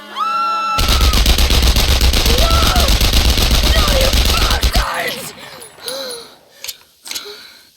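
A firing squad volley in the video game Enemy Front, loud sustained rattling gunfire lasting about four seconds before cutting off abruptly, followed by quieter voices and scattered sounds.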